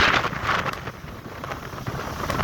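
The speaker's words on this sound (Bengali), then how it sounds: "দেখেন কি অবস্থা, রাস্তা কি বাতাস, সামনে আরো বেশি মানে ধুলো।" Strong dusty windstorm on a road, wind buffeting the microphone in loud, rumbling gusts, with a low engine-like drone underneath.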